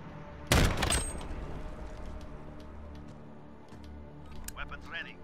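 Gunfire in Call of Duty Modern Warfare during a 2v2 match: one loud, sharp burst of shots near the start, then a steady hum of game ambience with small scattered effects fading out.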